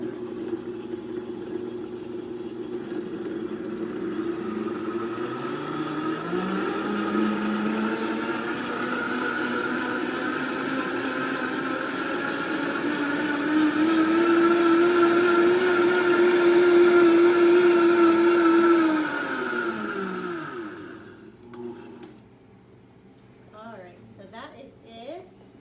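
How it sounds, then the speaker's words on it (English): A high-powered blender whirs loudly and steadily through a green smoothie for about twenty seconds, its motor pitch climbing and holding before winding down, after which faint sounds follow. "So I'm gonna put this on its base and we're gonna blend this until it's super smooth."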